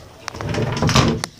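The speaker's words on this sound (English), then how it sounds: "Actually, I shut the door." A bathroom door swings shut with a couple of sharp latch clicks and a dull thud of wood settling, close by amid faint rustling.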